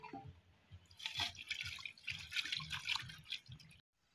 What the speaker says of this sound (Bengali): এবার আমি পাতাগুলো ধুয়ে নিব